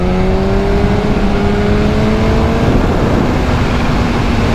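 A Kawasaki Ninja H2 motorcycle engine drones loudly and close, its tonal whine shifting in pitch partway through as it speeds along, with steady rushing road and wind noise underneath and no talking.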